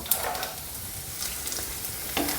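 Urad dal and garlic sizzle in hot oil in a pan, a steady close frying hiss with occasional stirring scrapes.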